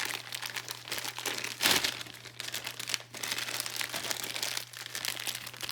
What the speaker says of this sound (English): You can unwrap the whole mouse setup itself.